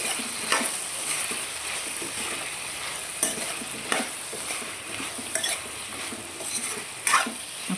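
Pumpkin curry being stirred in a pan over heat, with a steady soft sizzle and scraping, plus a few sharper clinks of the spoon against the pan, near and alone without talk.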